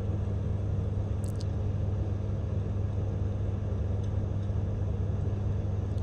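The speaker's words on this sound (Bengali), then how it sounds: "গাড়িগুলো যাচ্ছে আসছে, যাতায়াত করতেছে গাড়িগুলো" Cars come and go along a rain-wet road in Muscat, Oman, making a continuous low rumble of steady traffic with no voices.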